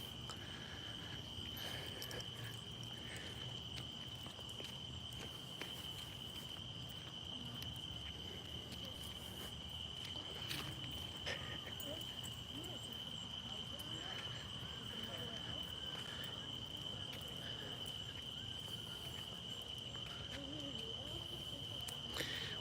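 Crickets chirp in a steady, continuous high-pitched trill at dusk as it grows dark on an outdoor walk, with a low wash of background noise beneath the constant insect chorus.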